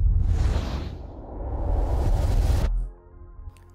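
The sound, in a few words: layered whoosh sound effects with a riser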